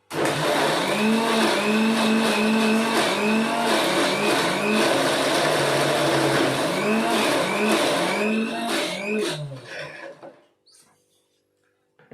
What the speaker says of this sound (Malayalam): ഈ ഒരു സാധനം നമുക്കൊന്ന് മിക്സിയിൽ നിന്നിട്ട് അടിച്ചെടുക്കാം